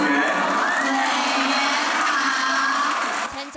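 Students and teachers at a junior high school graduation ceremony cheer and whoop loudly as a legislator jogs onto the stage, a steady roar of crowd voices that fades briefly near the end.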